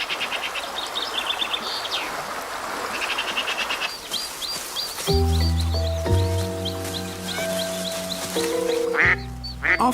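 A duck gives repeated quacks in a wooded outdoor setting, near and fairly loud, over birdsong and insect buzz, with gentle music rising in the second half.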